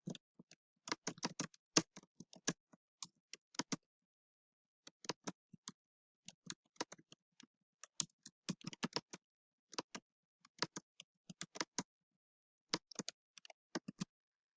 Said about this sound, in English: So you would type your question here.